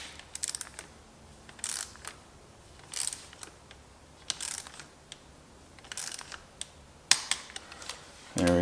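A bolt on a Husqvarna motorcycle clutch slave cylinder guard is snugged down with a ratchet, giving short bursts of quick clicking spaced a second or so apart, close and fairly quiet in a garage.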